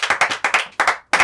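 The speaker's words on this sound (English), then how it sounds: "Clap for yourself." Students in a classroom clap for themselves in a short burst of close, brisk hand claps, a few quick rounds with a brief pause before a final clap.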